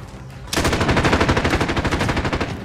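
Call of Duty gunfire: after a brief quiet moment, a loud, close, sustained burst of rapid automatic weapon fire with a steady, fast rattling rhythm.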